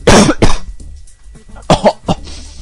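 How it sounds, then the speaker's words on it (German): Two sharp bursts of coughing come close up and loud after a sudden startle, followed by a throat-clearing hack and a short second fit, with quiet gaps between. "Ich hab mich jetzt erschreckt und dann gehustet."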